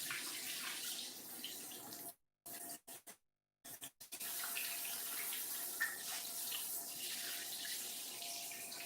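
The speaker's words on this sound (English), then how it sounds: "Now I'm gonna rinse my hands off." Hands rinsed under a running kitchen tap after mixing cinnamon rolls: steady splashing water, briefly cut off twice, then flowing continuously again, close and moderately quiet.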